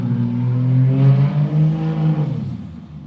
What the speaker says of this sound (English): Jacked up pickup truck.